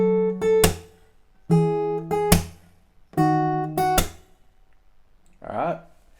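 Strummed guitar chords come in three short bursts, each made of quick chord hits ending in a sharp percussive slap, with pauses between them; a brief voice follows at the end.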